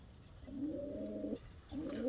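An Indian fantail pigeon gives a soft, low coo, a sustained murmur followed after a short gap by the start of another, close by over a quiet background.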